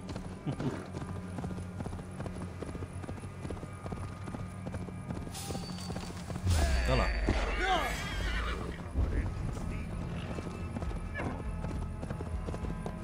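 Hooves clip-clop steadily from a horse ridden in the game Assassin's Creed Valhalla, with a whinny partway through and rising ambient noise, while a person talks over the scene.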